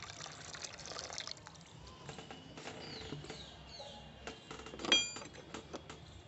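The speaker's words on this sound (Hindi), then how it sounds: "अब मैं इसमें थोड़ा सा पानी ऐड कर रही हूँ" Water is added to a homemade fertilizer mixture for a curry leaf plant, giving faint, intermittent trickling and splashing with a few small clinks, quiet and close.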